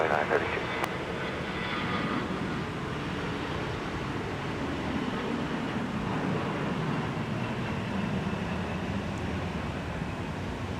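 An airliner takes off from Minneapolis–St. Paul Airport, a loud, steady jet roar that fills the whole stretch with little change in level.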